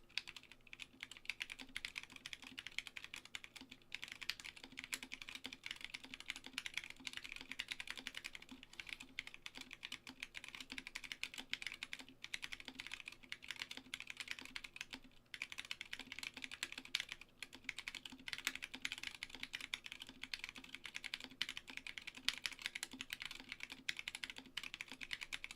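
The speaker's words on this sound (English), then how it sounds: "this is the Mark 65 with the Zeal switches, the 62 grams unlubed, with the keycaps being GMK Polybius" Fast, continuous clacking from a Mark 65 mechanical keyboard with unlubed 62-gram Zealios switches and GMK Polybius keycaps. The dense, even keystrokes sound close and quiet, and no one speaks.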